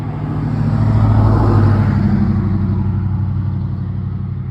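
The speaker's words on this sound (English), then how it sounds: "Car's about to pass, you guys." A car's engine rumbles loudly up close, peaking about a second in and then fading gently as it moves off, with no voices over it.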